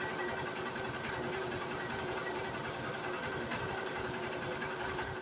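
A Honda CB Shine 125 motorcycle engine idles steadily for a vibration check, a close, constant mechanical hum with a fine rapid ticking texture and no pauses or voices.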